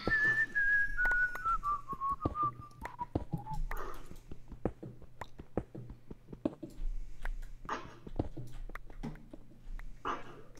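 A person whistles a descending melody in a German-language Minecraft session, the clear tune sliding downward over the first few seconds, followed by quiet clicks and taps.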